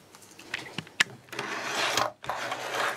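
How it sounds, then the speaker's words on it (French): A sewing machine stitching fabric makes a few short taps, then a steady whirring run that stops briefly and starts again, fairly quiet and close. "Bon, bah passons maintenant à la machine à coudre."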